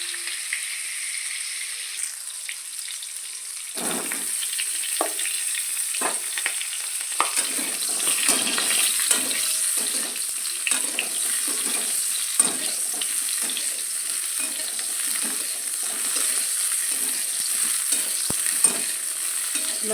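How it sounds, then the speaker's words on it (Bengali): Cauliflower pieces frying in hot oil, a constant close sizzle under steady bursts of stirring and scraping, with no speech. "আমার কপি ভাজা হয়ে গেছে।"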